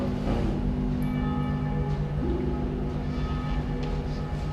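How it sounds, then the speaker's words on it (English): Church bells of the First Congregational Church toll for a funeral in the distance, a steady resonant ringing blended with constant low background rumble. "Do you hear the bells?"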